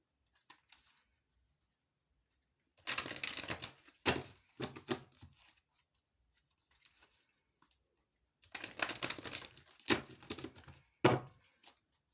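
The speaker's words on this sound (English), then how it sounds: "Let's give it a quick shuffle." Tarot cards being shuffled by hand in two brisk riffling bursts separated by quiet pauses, close and crisp in an otherwise silent room.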